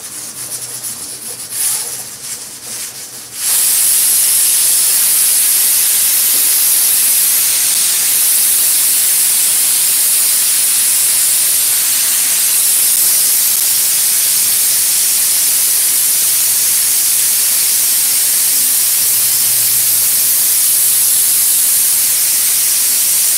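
A pressure cooker in a home kitchen vents steam in a loud, continuous high hiss that bursts on after a few seconds of quieter noise and holds steady for a long stretch.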